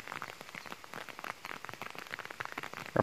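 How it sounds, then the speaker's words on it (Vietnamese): Rain falls steadily in a forest, a dense patter of drops striking leaves and ground at close range with no voices over it. "Gặp mưa rồi anh em ơi."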